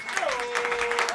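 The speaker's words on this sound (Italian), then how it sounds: "questo è un grande applauso per Guy Liddell, please." Audience applause at a Tom Petty tribute night, a short burst of dense clapping with a voice speaking over it.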